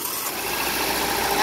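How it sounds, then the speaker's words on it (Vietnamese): A 2004 Hyundai Sonata with automatic transmission idles with its hood open, a loud, smooth, steady engine hum close by. "Máy nổ rất êm nhé mọi người nhé"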